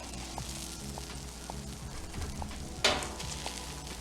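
Sausages cook on a Blackstone griddle for breakfast sandwiches, giving a steady close sizzle under background music, with a short metallic clatter near the three-second mark.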